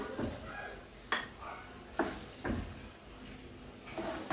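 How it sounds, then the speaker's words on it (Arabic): Cooked pasta and breaded cutlets being scooped from a pot in a home kitchen, with a few soft scraping and clinking strokes of a utensil against metal over faint background sizzle and no talking. "نغرف بقى كده ونتغدى قبل ما ننزل"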